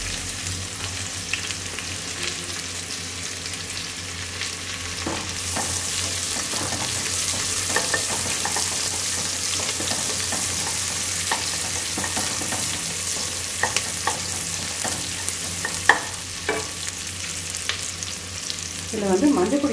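Onions frying in oil for jackfruit biryani, giving a steady close sizzle that grows louder partway through, broken by frequent scraping stirs and a few clinks of the spoon against the pan.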